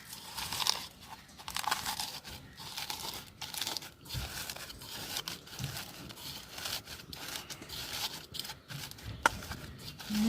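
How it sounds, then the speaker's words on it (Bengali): Dried red chilies and salt being crushed by hand for a hilsa fish tail bharta give a continuous dry crackling and crunching, close and fairly loud throughout. "শুকনো মরিচটা আমি একটু প্রথমে ভাঙিয়ে নেব ভালোভাবে।"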